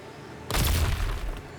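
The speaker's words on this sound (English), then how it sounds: "More explosions, Captain." Explosions in the video game Punishing Gray Raven: a sudden loud blast bursts in after a short quiet lead-in, then a dense rumbling roar that slowly tails off with no voices.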